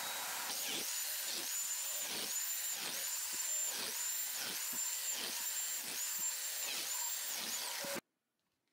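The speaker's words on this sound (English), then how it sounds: "To align and join the boards for the stool top, I use my biscuit joiner." A biscuit joiner cuts slots into pallet hardwood boards for a step stool top, its high motor whine pulsing in about a dozen short, regular bursts as each slot is plunged, loud and close with no voices, then stopping abruptly.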